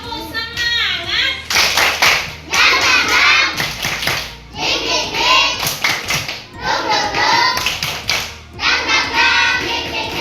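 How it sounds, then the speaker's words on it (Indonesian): Classroom children perform a rhythmic spirit clap, chanting together in bursts punctuated by sharp group clapping and taps, loud and close. "Oke, tepuk semangat."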